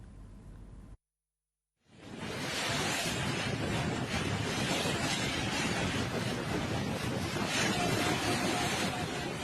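Strong storm wind during heavy rain in Sidoarjo, sweeping over rooftops and trees: a loud, constant roaring rush with microphone buffeting that starts after a brief cut and holds steady.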